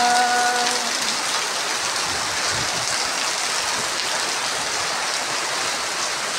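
Steady, dense rain patters loudly on a tin roof, a continuous hiss with no breaks.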